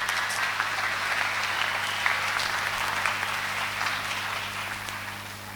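A church congregation claps steadily for several seconds, a dense, even applause with no voices over it and a constant low hum beneath.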